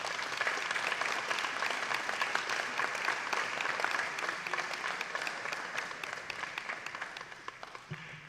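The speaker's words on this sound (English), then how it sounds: "join me in offering a round of applause to our outgoing Board of Education members" Sustained round of applause at a school board of education meeting honoring outgoing board members, steady dense clapping from the audience that tapers slightly toward the end.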